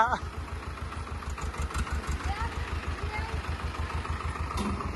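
A tractor engine idles close by on a farm during corn silage making, with a steady, rhythmic low thumping, while people talk over it.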